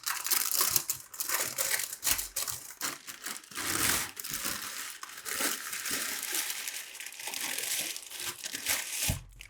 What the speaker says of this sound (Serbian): Polako samo skidate ovaj papir, zato što hoće nekad da se malo zalepi.